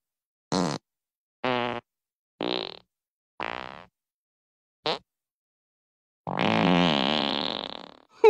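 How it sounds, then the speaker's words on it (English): Cartoon fart sound effects from a Family Guy hotel scene: five short separate bursts with pauses between them, then one long sustained rasping blast, loud and close, with no talking over them. "Would you stop farting"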